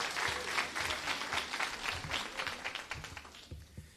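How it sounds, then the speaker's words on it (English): Audience at a Dr. Martin Luther King Jr. oratorical contest gives the school staff a round of applause, a quiet, somewhat distant patter of clapping that thins out toward the end. "give my beautiful staff a round of applause"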